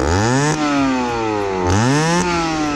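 A 50cc motorcycle engine in neutral revs hard twice, its pitch sweeping up and falling back each time, loud and close with no talk.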